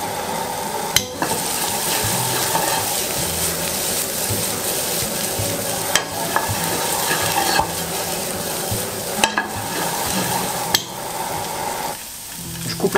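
Chopped parsley and minced garlic fry in a pan with a constant close sizzle, broken by occasional sharp clicks and stirring scrapes of a utensil against the pan.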